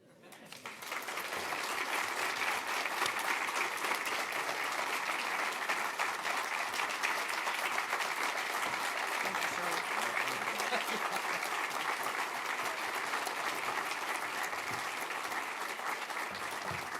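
Audience at a prayer breakfast breaking into steady, loud applause welcoming a speaker to the podium, sustained clapping for about sixteen seconds after a brief quiet start.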